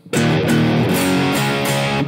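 Electric guitar through an OD100 amp boosted by a Maxon SD9 overdrive pedal rings out in thick, sustained chords, louder and grittier, with strums changing every half second or so.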